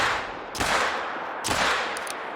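Two heavy revolver shots in a video game, about a second apart, each a loud sharp crack with a long ringing tail, close and alone without talk.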